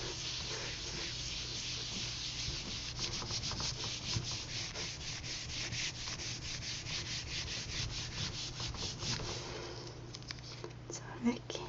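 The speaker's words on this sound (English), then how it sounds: "You can also, using a wooden spoon, rub over the back of it." A wooden spoon rubs firmly over the back of a paper monoprint, giving a steady, close dry scraping and sanding sound that runs continuously with soft, breathy friction throughout.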